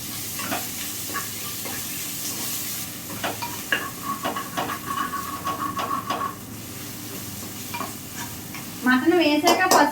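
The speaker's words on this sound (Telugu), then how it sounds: "ఒకసారి కలుపుకుందాం" Mutton curry with fried onions and turmeric is stirred in a pan, a steady frying sizzle broken by repeated spoon scrapes and clinks against the metal, close up, with a louder bubbling hiss near the end.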